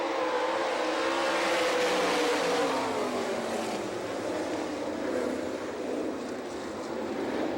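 Sprint cars racing on a dirt track at a restart, a dense fairly distant roar of several engines blending together in a continuous, steady wash of noise.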